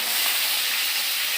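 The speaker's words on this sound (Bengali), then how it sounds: "এই যে পেঁয়াজটা ভাজা ভাজা হয়ে গেছে" Onions fry in a hot pan with a steady, close hiss and sizzle that holds evenly throughout the short moment, with no talk over it.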